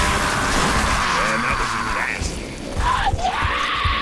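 Screaming enemies in the Gears of War video game, distant strained yells and shrieks rising and falling over rumbling game noise, with someone talking in between.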